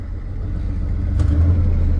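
A Ford F250 truck engine revs with a steady low rumble as the clutch is dumped, the drone rising slightly and holding loud and close throughout.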